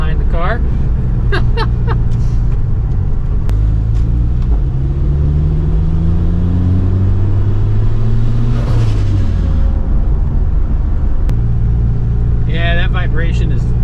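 Tuner car that sat abandoned for a year in upstate New York, running on old gas with a vibration, rumbles loudly and steadily, its engine pitch rising and falling as it revs and drives, with people speaking over it.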